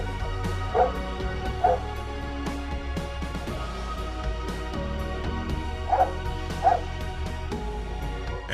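A guide dog leading its blind owner across a street gives a few short barks and yips, spaced apart over steady traffic and street noise.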